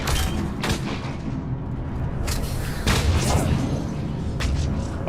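Booming pistol shots from a handgun in Mass Effect Legendary Edition, several heavy thumping reports at uneven intervals, loud and close over rumbling game ambience.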